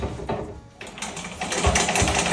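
An antique Singer 15k treadle sewing machine runs on a new leather belt, its needle clattering in a quick mechanical rhythm that starts after a brief lull and speeds up, loud and close.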